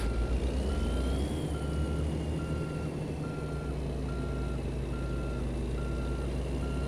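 A truck's reverse alarm in American Truck Simulator beeps steadily in evenly spaced pulses over a loud, constant diesel engine rumble, with no talking.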